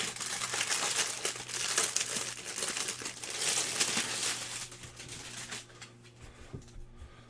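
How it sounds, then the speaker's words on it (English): Plastic wrapping pulled off a tabletop game accessory, crinkling continuously and loudly up close, then thinning to a few softer rustles at the end, with no voices. "let's get rid of the plastic and just see what's on here"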